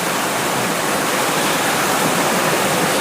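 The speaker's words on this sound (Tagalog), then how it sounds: "Ayun, tubig." A mountain stream or waterfall roars in a steady, loud, unbroken wash of rushing water, with no voices over it.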